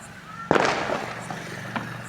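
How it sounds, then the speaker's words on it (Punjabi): Firecrackers and fireworks going off at a Bandi Chhor Divas celebration in Punjab: one sharp, loud bang followed by a crackling burst, then a second, smaller pop, over steady background din. "ਸੰਗਤਾਂ ਪਟਾਕੇ ਚਲਾ ਰਹੀਆਂ ਅਸਤਵਾਜੀ ਚਲਾ ਰਹੀਆਂ"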